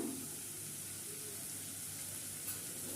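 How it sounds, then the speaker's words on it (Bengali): Masala spices sizzle steadily in a covered pan while cooking for a green banana kofta curry, a faint, even frying hiss with no break. "এবার আমি একটু ঢেকে ভালো করে মশলাটা কষিয়ে নেব।"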